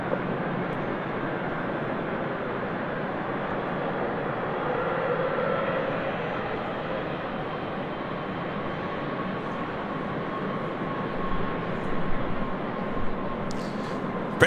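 A British Airways Boeing 777-300ER airliner on departure from runway 24 left produces a steady, broad engine roar held at constant loudness throughout, with no speech over it.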